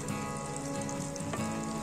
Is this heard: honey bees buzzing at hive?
no